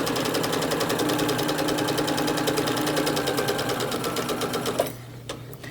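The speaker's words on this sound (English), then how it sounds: "So I will do a back stitch, and I'm doing about a 1/2 inch seam, like I said. Just going all the way around." A sewing machine stitches a half-inch seam around the edge of a terry towel, its needle chattering in a fast steady rhythm that runs close and loud for nearly five seconds before stopping abruptly.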